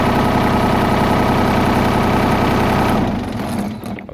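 A Mahindra eMax 25 compact tractor idles with a steady, loud, close diesel rumble that stays even for about three seconds before dropping away, with no talking.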